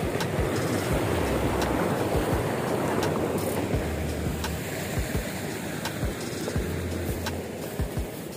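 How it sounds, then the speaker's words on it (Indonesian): Water rushes steadily into the intake of a 4-inch hydraulic ram pump, a continuous broadband roar close by with occasional knocks and clunks, no talking. "Begitu, air mulai mengalir."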